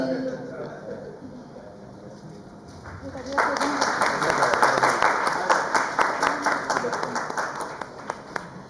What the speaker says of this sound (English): Amazing round of applause for always being a part and integral part of KVTC